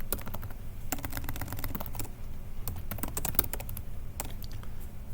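Quick bursts of typing on a computer keyboard while a number is entered into Sage, close and clear with irregular clusters of key clicks separated by short pauses.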